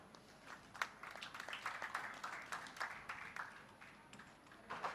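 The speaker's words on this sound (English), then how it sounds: "Round of applause for sir." Audience applause at an AI summit convocation ceremony, a steady round of clapping from a crowd that swells and holds for several seconds, with scattered louder claps over the din.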